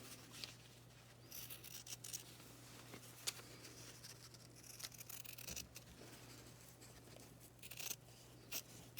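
Scissors cut out fabric pieces for a lip balm key fob, faint close snips and soft rustling of cloth in an irregular rhythm over a low steady hum, without talking.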